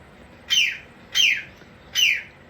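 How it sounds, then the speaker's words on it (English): Three sharp, evenly spaced bird chirps ring out over a quiet background, each a short descending call. "What are you doing, crazy birds?"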